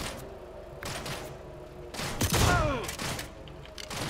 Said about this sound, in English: Take out some Nazis with an anti-tank gun?